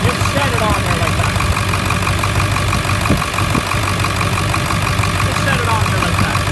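A Ford 7.3 Power Stroke diesel engine idles nearby, a steady, loud, even rumble with a faint ticking clatter running through it the whole time.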